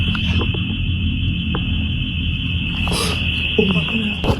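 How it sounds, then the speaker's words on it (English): A house alarm sounds with a steady high-pitched electronic tone held unbroken throughout, under low background rumble and brief voices near the end. "their house alarm starts to go off"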